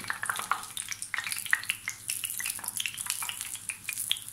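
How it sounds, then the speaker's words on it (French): Beignets fry in hot oil, a crackling sizzle with sharp pops and spatters while oil is ladled over the dough, close and continuous without speech. "le but du jeu c'est de les plonger directement dans l'huile, comme ceci"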